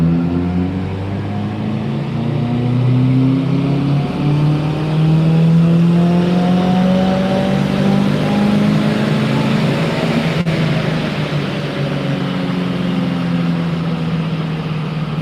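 Car engine winding down as it coasts without braking during an intercooler test, a steady loud drone whose pitch falls slowly and evenly across the whole stretch, with no talking.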